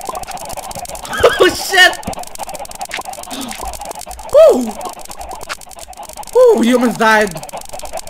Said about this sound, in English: From the chicken spawning?